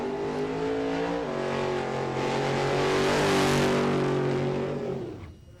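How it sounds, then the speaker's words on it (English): A drag racing Chevy with about 11 litres of engine and nitrous oxide does a burnout, a loud sustained engine roar over tire noise that rises in pitch and then fades out. "Wow, what a burnout."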